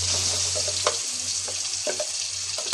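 Blended onion and tomato paste fries in a hot pan for Kerala chicken curry. A loud, steady sizzle runs throughout, broken by occasional stirring scrapes, with no talking.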